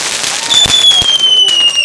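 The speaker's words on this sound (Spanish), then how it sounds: "Oye, van a salir los petardos." Several sharp firecracker bangs crackle over a whistling streak, close and loud, with crowd noise faintly underneath, during the Fallas festival's final burning night in Valencia.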